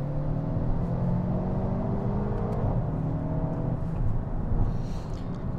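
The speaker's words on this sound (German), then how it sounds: "Ich gebe mal Gas" A Mercedes-AMG A 35 4MATIC accelerates, its engine a steady, full rumbling roar with rising whirring tones heard from inside the car, with no talking.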